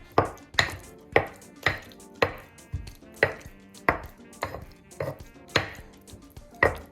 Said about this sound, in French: Je termine de moudre avec mon pilon.